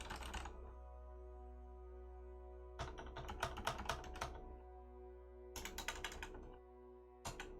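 Quick clattering keystrokes on a computer keyboard while typing in a terminal, coming in short bursts of rapid taps separated by pauses, close and clear over a low steady hum.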